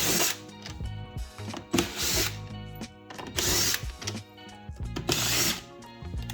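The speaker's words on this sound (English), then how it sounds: "I'm going to remove all 4 screws from the factory speaker" A power tool whirs in short bursts while the four screws of a factory speaker in a golf cart are taken out, with clicks and mechanical rattle between runs, close by and with no one talking.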